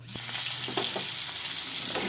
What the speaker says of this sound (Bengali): তো সামান্য পরিমাণে নুন দিয়ে দিলাম, যাতে করে আনাজগুলো একটু তাড়াতাড়ি ভাজা হয়ে যায়।